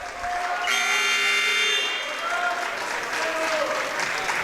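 Spectators clap continuously at a volleyball match, while a loud electronic buzzer tone sounds over the applause for about a second early on. Crowd voices murmur underneath.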